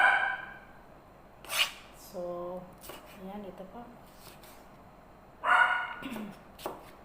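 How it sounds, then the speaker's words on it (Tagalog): A neighbour's dog barks in short, sharp bursts from nearby, a few separate barks between stretches of someone talking in a kitchen. "Ang ingay din kasi yung aso sa kabila, guys"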